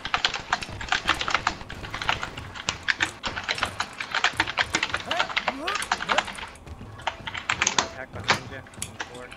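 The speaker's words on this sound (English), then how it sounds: "Holy crap, you're typing a lot." Rapid typing on a computer keyboard during an online match, with dense clusters of clicks and brief pauses, close and continuous under occasional background voices.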